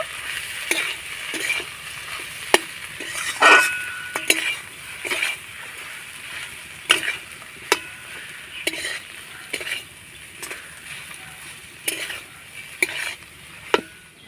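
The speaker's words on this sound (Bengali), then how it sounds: "এবার ভালো করে আমি মশলার সঙ্গে আলুটাকে কষিয়ে নেব" Potatoes stir-fried with red chilli powder, sugar and spices in a pan, with a spatula scraping and knocking the metal in an irregular run of sharp clicks over a steady low sizzle, close and alone.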